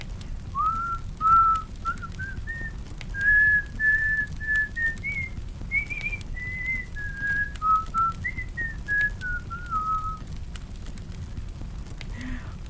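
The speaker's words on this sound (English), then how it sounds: "He remembered another song he had learned at Omuafia and began to whistle it." Someone whistles a slow, wandering tune, clear and close, one steady note after another for about ten seconds against a soft background hiss.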